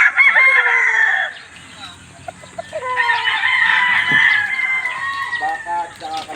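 Chickens at a dormitory yard, with a rooster crowing loudly and close and hens clucking around it, the calls overlapping in bursts with a short lull in the middle.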